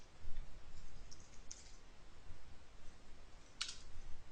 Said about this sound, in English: Can't even talk while I'm typing.